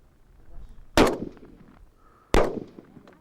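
Two sharp gunshots ring out at a shooting range about a second and a half apart, each a loud crack with a short decaying echo, over quiet background.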